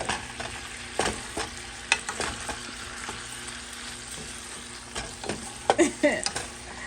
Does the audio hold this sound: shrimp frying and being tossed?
yes